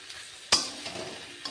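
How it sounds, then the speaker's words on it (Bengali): Potatoes and pointed gourd being sautéed in a pan, heard as a sharp scrape or clink of a utensil against the pan, then a soft sizzle and a second faint clink, close and quiet. "সবগুলো ভালোভাবে কষিয়ে নিচ্ছি"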